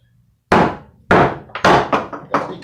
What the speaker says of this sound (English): And then I take a hammer and I kind of angle down and out.